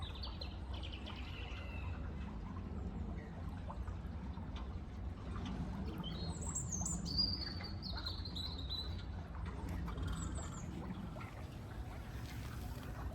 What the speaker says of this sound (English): The birds are thinking it's spring.